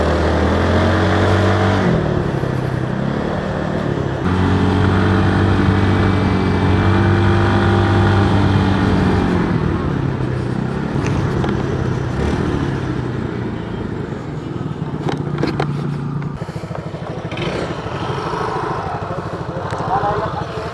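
A Yamaha Soulty scooter on a night ride, its engine note droning steadily and shifting pitch as it speeds up and eases off, loud and close, with people talking over it at times.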